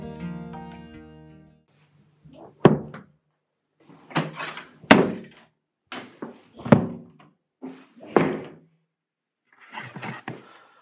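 A series of wooden thuds and knocks as a door is shut and latched several times, with short quiet gaps between the bangs.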